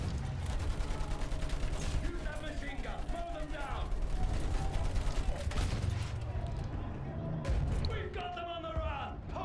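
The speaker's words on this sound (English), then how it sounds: "I have the machine gun too" Machine-gun fire in Battlefield 1, loud and close, with rapid mechanical clatter and repeated shot bursts through the middle, set against busy battlefield noise while someone talks over it.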